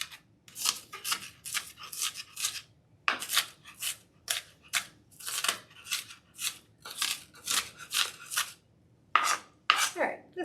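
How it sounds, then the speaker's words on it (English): A knife dicing an onion on a cutting board, a long run of rapid, crisp chopping strokes in bursts with brief pauses, close and loud with no talking. "They want 1 onion diced."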